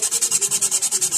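Hand sanding with 120-grit sandpaper during brake work, a brisk, even back-and-forth rasp repeating about ten times per second, close and steady with no talking.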